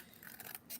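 Scissors snip through thick half-inch foam strips at a craft table, a few quick, faint close-up cuts in under a second.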